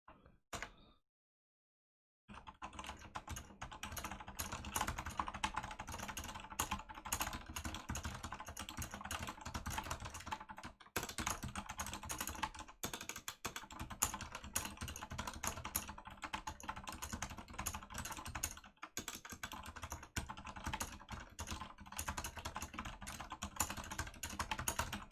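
Typing on a computer keyboard: rapid, continuous key clatter that runs for about twenty seconds after a short silence, close and steady, with a few brief pauses.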